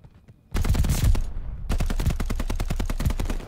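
Rapid automatic gunfire from a weapon in COD: Vanguard, two loud sustained bursts of closely spaced shots separated by a short pause, with heavy low thump.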